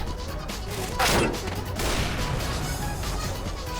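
Gunfire in Counter-Strike: Global Offensive comes as a loud, close burst of rapid shots, then continues as sustained rattling fire under background game noise, with some talking.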